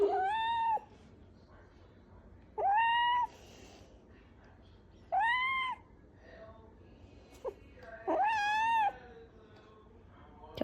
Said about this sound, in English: my cat will be meowing thousands of times.